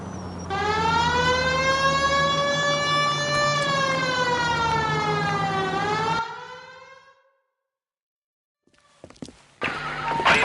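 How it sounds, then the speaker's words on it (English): A police siren in a video game wails loudly in a long rising and falling tone, then cuts off into silence before faint clicks and a burst of noise. "Hit the siren."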